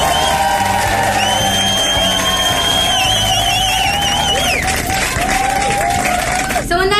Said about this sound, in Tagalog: Daming palakpak Congressman.